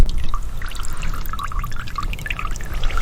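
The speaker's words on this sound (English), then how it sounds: "Hopefully this will collect the windshield washer fluid." Windshield washer fluid drains from a car into a pot in freezing winter cold, a continuous close splashing pour with small drips and gurgles, no talking.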